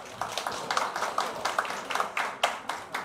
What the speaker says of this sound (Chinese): 大家也鼓掌